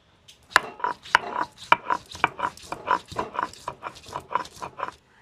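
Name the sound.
grinding ginger and garlic into paste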